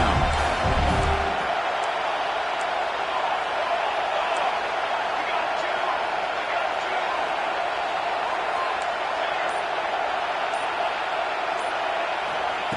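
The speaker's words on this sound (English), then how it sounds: "Home crowd trying to make a difference on 4th down." A home crowd at a football game on fourth down keeps up a loud, steady roar that fills the whole stretch, with a brief louder thump near the start.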